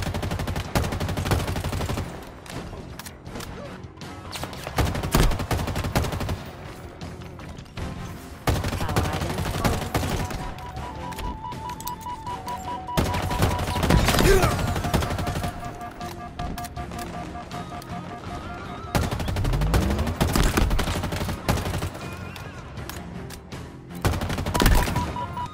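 An assault rifle fires in the video game Halo Infinite in repeated rapid automatic bursts separated by short pauses, loud and close, with occasional mechanical tones and effects between volleys.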